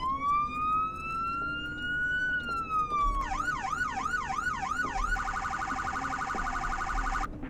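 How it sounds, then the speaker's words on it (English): An electronic sheriff car siren in the video game Greenville wails steadily, then shifts to a rapid yelp and a fast warble, loud and synthetic with no talking. "But yeah, we have our lights and our sirens."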